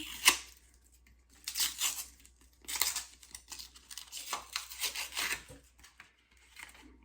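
Paper or plastic packaging around a natural soap bar tears and crinkles close up in several quick rips and rustling bursts separated by short pauses.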